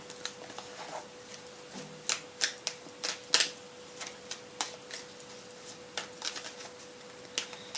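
Tarot cards are handled and drawn during a reading, with soft, quiet taps, flicks and shuffling clicks in an irregular patter over a faint steady hum, with no talking.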